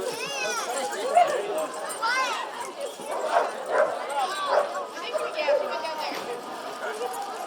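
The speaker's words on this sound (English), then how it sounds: "Don't take the dog." Dogs bark, yip and whimper at an outdoor puppy pool party, with several close, excited barks scattered throughout and people talking over them.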